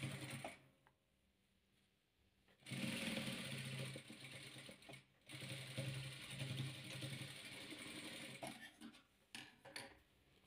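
Sewing machine stitching two patchwork fabric pieces together in quick whirring bursts, pausing between runs, fairly close and alone without talk.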